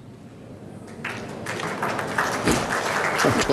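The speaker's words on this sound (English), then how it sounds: "Just muted applause to start" Muted applause at a 2007 Australian indoor lawn bowls championship semi-final, soft and scattered at first, then thickening into a steadier patter of distant clapping.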